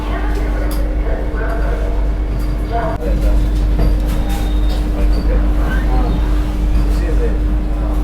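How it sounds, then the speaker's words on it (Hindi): Vande Bharat Express pulling out of Chennai Egmore railway station, a steady loud rumble of the moving train with a constant low drone and hum, heard from inside alongside background voices. "अपनी वंदे भारत एक्सप्रेस का डिपार्चर हो गया है चेन्नई एगमोर रेलवे स्टेशन से"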